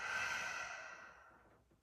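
A soft exhale through the nose and mouth during yoga vacuum breathing, a single breathy rush lasting about a second that fades to quiet.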